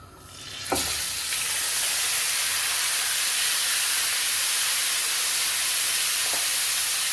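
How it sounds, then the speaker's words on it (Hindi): Beef is dropped into a hot pan of olive oil and garlic over full flame, setting off a loud, steady sizzle that starts abruptly and carries on without talk. "इसे हमने फुल फ्लेम पर पहले थोड़ी देर के लिए इसे फ्राई करना है"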